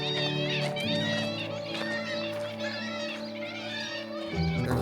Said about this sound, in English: Oh wow, look at all the birds nesting up. I think they're kittiwakes.